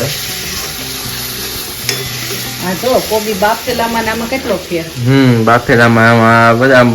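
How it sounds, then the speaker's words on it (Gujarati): Pav bhaji masala is sautéed in a pan, giving a steady sizzle with stirring scrapes. Someone speaks over the cooking for most of the stretch, and the sizzle and her voice get louder toward the end. "હવે ઘડીક આપણે આને સાતળવા દેવાની ઘડીક વાર સાતળવા દેવાની"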